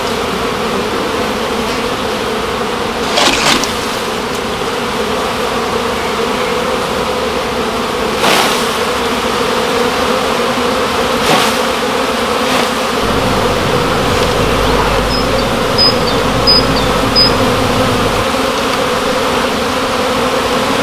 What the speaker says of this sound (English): I think it's pretty self-explanatory what I'm doing when I shake the bees in the cover